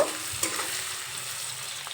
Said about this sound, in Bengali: পেঁয়াজ দিয়ে একটু নেড়ে চেড়ে নেব